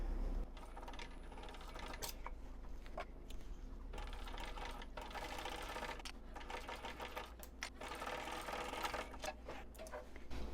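A sewing machine runs back and forth over a wristlet seam, backstitching, producing a steady close mechanical whir with rhythmic ticking and brief pauses as the direction changes.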